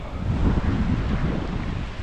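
Strong wind at a lake shore while fishing, a loud, continuous rumbling roar buffeting the microphone with gusty swells and no talking.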